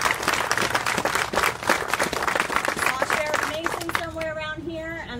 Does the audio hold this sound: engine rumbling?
no